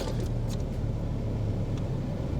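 An Audi's engine idles with a steady low rumble, close by and continuous, with a few faint clicks on top.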